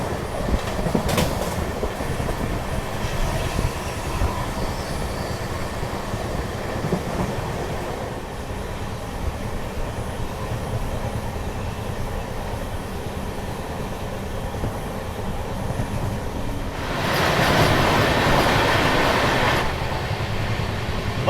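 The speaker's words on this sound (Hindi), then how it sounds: "वंदे भारत एक्सप्रेस।" Aboard a Vande Bharat Express in a first AC coach, a steady rumble of wheels on the rails fills the cabin, swelling louder near the end, with no voices.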